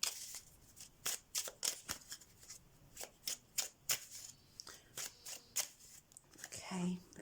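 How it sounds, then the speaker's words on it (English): Silent Heart tarot cards are shuffled by hand in a run of sharp, crisp riffling bursts, close and fairly quiet, repeating in an uneven rhythm with short pauses between. "Let me pull out some thoughts and feelings cards here as well."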